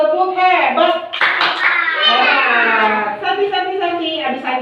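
Young children in a kindergarten class chant together in a rhythmic clapping cheer, their bright, sing-song voices loud and close over steady hand claps throughout.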